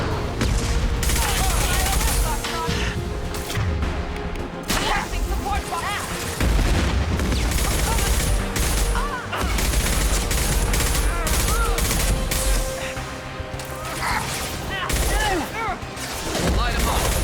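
Sustained combat in Mass Effect 2, a high-impact shot amid dense gunfire and booming impacts, loud and continuous with repeated cracks and blasts, and voices talking under the battle.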